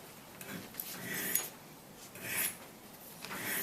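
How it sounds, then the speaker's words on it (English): A steel chef knife is drawn repeatedly through a knife sharpener, giving soft, close scraping rasps in an uneven rhythm, with no talking. "I want to maintain contact with the sharpener at all times."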